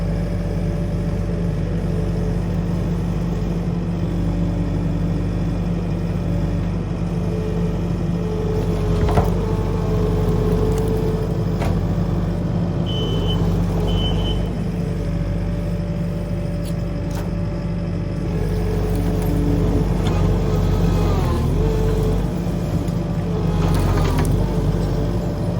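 A skid steer runs with a steady low engine drone while shifting a greenhouse, its diesel rumble continuous and moderately close, with occasional clanks and mechanical knocks from the work.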